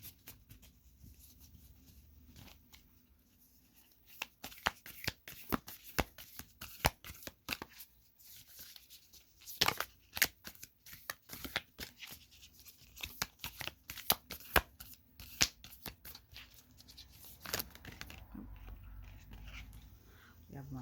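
Alchemy oracle cards being shuffled, with repeated papery riffles and flutters across most of the stretch, at moderate level beneath occasional talk.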